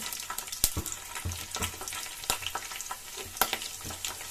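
Urad dal and chopped green chillies fry in hot oil for masala dosa seasoning, giving a steady crackling sizzle with sharp pops and stirring clicks at close range.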